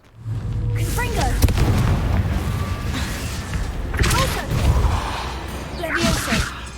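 Spell bursts from the Confringo fire spell in the video game Hogwarts Legacy, several booming blasts with whooshing tails spread across a few seconds over steady game ambience, with a voice speaking in between.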